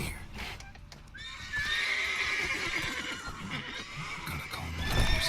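Horses in The Witcher 3 give loud, close neighs and whinnies over steady clip-clopping hooves, one long whinny rising and falling through the middle, with no talk.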